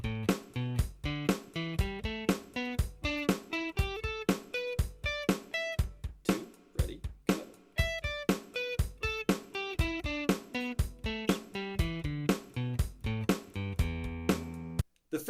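An electric guitar picks a fully syncopated pentatonic rhythm over stacked chords, short separate notes landing between the beats in a steady choppy stream, close and clear for about fifteen seconds with no talking.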